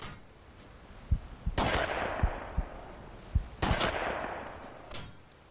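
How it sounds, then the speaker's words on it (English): Two booming blasts from a 12 gauge side-by-side double-barrel shotgun in a hunting video game, each a loud sharp crack with a long fading tail, spaced about two seconds apart, with faint clicks and thumps of handling between. "here we have a 12 gauge double barrel shotgun, a side-by-side"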